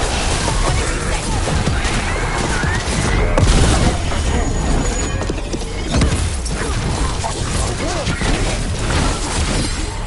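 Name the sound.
Gatlock cannons firing in video game Dragon Age Veilguard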